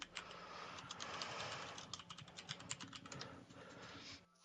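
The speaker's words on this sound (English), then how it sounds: "He's typing." Someone types on a computer keyboard, a quick burst of soft clicking keystrokes close by that thins out and stops near the end, quiet and alone with no talking.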